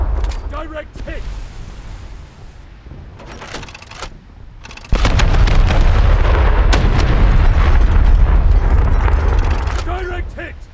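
A deep, heavy explosion from a torpedo striking in World of Warships with the Japanese cruiser IJN Tone erupts abruptly after scattered lighter blasts, then a loud rumbling roar sustains for several seconds; voices call out over the action.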